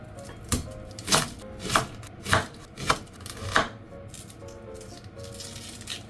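A knife cuts a peeled onion into wedges on a cutting board, making about six crisp, evenly spaced chops, each one a sharp, close knock with a light rattle. The chops play out alone against quiet kitchen background.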